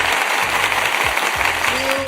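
A live town-hall crowd applauds in a steady wash of clapping. Low voice fragments cut in over the top, and a brief tonal sound rises near the end.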